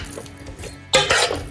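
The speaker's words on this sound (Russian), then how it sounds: "теперь мы берем ложку и перемешиваем наш салат" A spoon stirs and scrapes through a vinegret beet salad in a bowl, a soft clatter and scrape that grows louder near the end, with no talk.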